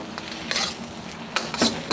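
Shrimp coated in salted egg yolk butter is stirred slowly in a pan, with a few soft scraping strokes over a low, steady sizzle and no talking.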